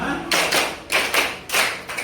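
Rhythmic hand clapping in a classroom coaching session, arranged as two quick bursts of claps repeated in sets, close and crisp with no talk over it.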